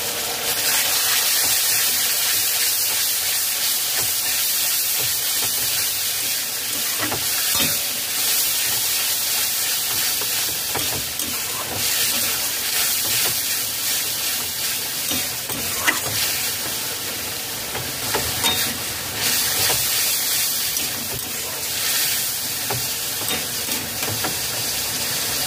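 Tomato puree for chicken tikka masala frying in oil and onion masala over low to medium flame, a steady loud hiss and sizzle with occasional stirring clatter, continuous and close with no talking.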